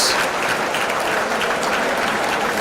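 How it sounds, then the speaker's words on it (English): Audience applauding the referees and officials at the men's final of the IWBF European Wheelchair Basketball Championships, a steady wash of clapping from a crowd in an indoor arena, holding even and loud across the whole moment. "And a warm round of applause for all of our officials"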